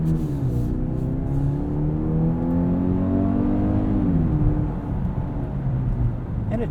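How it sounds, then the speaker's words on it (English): 2021 Genesis GV80 2.5T turbo four-cylinder accelerating hard in sport mode, heard from inside the cabin: a steady droning engine note climbing in pitch through the revs, then dipping at a shift before rising again, with road noise underneath. "hear a little bit of piped in noise in sport mode from this 4-cylinder"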